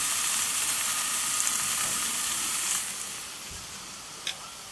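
A saddle of wild boar sears on a hot barbecue grill with a loud, steady hiss that gradually quiets toward the end, followed by a single faint tick.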